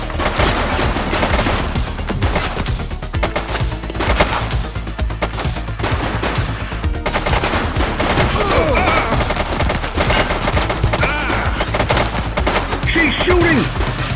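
Sustained gunfire during a police shootout in a video game, rapid cracking shots repeating densely over the whole stretch, loud and close, with bursts of voices mixed in.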